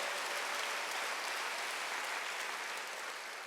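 A church congregation applauding at a Wednesday worship service, steady dense clapping that fills the room and fades slightly toward the end.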